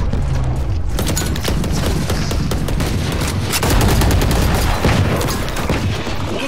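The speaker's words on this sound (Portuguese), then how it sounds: "Granada!" Loud, dense gunfire and a booming grenade blast fill a Valorant ranked match. The bursts and impacts run continuously and close for several seconds.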